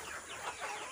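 A couple of short, soft clucks from free-range chickens, fairly close, in a quiet setting.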